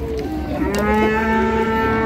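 Heifer at a livestock market in Füzuli, Azerbaijan, letting out one long, loud, close moo that holds a steady tone, with a faint crowd murmur behind it.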